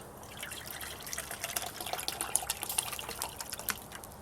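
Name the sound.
water poured into a can on a hobo stove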